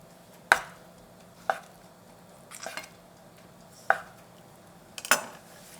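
A knife chops radish on a cutting board for galbi-jjim, braised beef short ribs, giving five sharp, separate thumps close up with pauses between them in a quiet kitchen.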